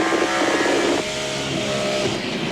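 NASCAR Craftsman Truck Series race trucks roar down the track on a final lap, one loud engine note dominating with a downshift shift around the midpoint, continuous and close under no talk.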